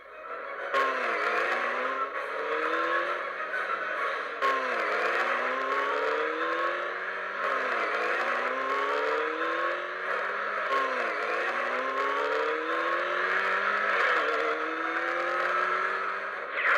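A car engine revs and pulls away, climbing in pitch through repeated gear changes in a steady rising-and-dropping pattern, loud and alone for the whole stretch.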